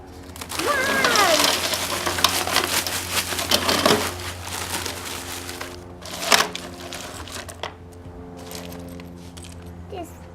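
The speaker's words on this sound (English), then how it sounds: "And then I'm just going to keep adding more ice." Ice is piled onto fabric for ice dyeing, giving crunchy clattering and crinkling rattles of cubes that come in bursts for about ten seconds, close and fairly loud.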